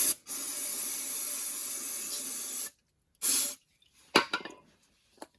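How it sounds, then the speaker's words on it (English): A long, steady hiss of an aerosol cleaner spraying onto rusty, seized transmission parts of a 1956 Dodge, followed by a shorter second burst and a few faint clattering bits. "Spray some of this junk off."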